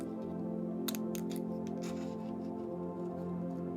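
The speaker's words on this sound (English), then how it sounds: "I'm stuck in my fussy cutting scissors." Small fussy cutting scissors snip paper in a few quick, close cuts over a steady background hum.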